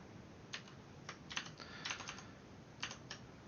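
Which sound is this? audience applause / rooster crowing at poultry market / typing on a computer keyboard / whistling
typing on a computer keyboard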